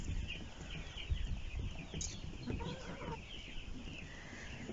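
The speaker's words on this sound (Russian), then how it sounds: "Вон курочки уже ходят." Hens clucking as they wander a yard beside a greenhouse, a steady stream of soft, close clucks and calls over outdoor background noise.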